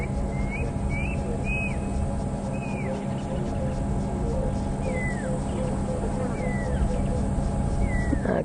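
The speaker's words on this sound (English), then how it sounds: "I can hear a pearl-spotted owlet calling in the distance" A pearl-spotted owlet calls from far off in the African bush during an evening safari game drive, a series of short, thin whistles repeating at intervals over a constant background hiss.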